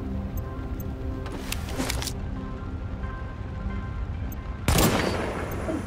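Gunfire in Tom Clancy's The Division beta, a few sharp shots standing out over a steady, noisy game background, with a louder blast near the end.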